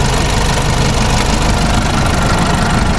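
A pickup truck's engine idles close by, a loud, steady, even rumble with a low knocking pulse throughout and no talking.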